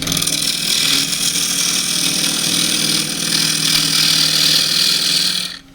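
A half-inch spindle gouge cuts cedar on a wood lathe while turning a pot, giving a steady, close hiss and rasp over the hum of the spinning lathe, continuing for several seconds before stopping.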